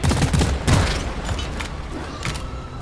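Rapid gunfire in the video game Deep Rock Galactic, with a dense, loud stream of shots and booming impacts over about three seconds, layered with mechanical game sounds.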